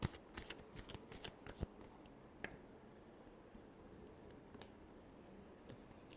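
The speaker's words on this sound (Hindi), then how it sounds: "Last shuffle." Tarot cards get a final shuffle, with a quick burst of crisp riffling flicks in the first two seconds and then sparse soft card taps over a quiet room background.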